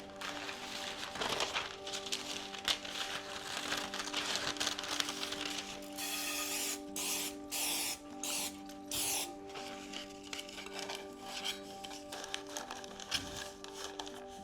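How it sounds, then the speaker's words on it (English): Short hissing bursts of cooking spray puff out in a quick series over a steady background hum. "I'm going to spray the entire pan and line it with parchment paper."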